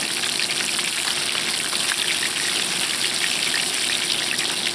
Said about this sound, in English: Look at that, nice little fry going there